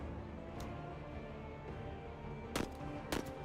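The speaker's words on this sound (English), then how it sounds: "Let's call it a gun run" A strafing gun run in the strategy game Menace rattles out as short bursts of gunfire, with a faint shot early on and two sharp louder bursts near the end over a low, steady battle hum.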